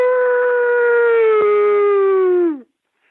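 A man imitates a hound dog howl, one loud sustained tonal note held for over two seconds that slides downward and cuts off sharply, up close with no other sounds.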